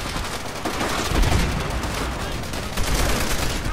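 Dense, continuous gunfire crackles with booming explosions mixed in, a chaotic Call of Duty: World at War battle din that stays loud and busy throughout, no voices.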